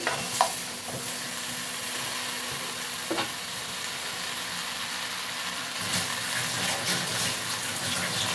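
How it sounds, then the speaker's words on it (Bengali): Potatoes being stirred into a vegetable curry in a pan: a steady close sizzle with a few soft scrapes and knocks of the spoon, with no voices. "আলুটা দিয়ে দিলাম এবার এটাকে ভালো করে নেড়ে দিতে হবে"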